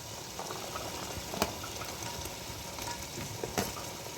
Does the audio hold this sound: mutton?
yes